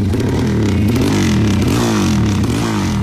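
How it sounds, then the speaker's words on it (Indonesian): A loud motorcycle with an aftermarket exhaust rumbles and revs close by, its deep throaty exhaust blatting continuously. "pakai knalpot brong segala lagi"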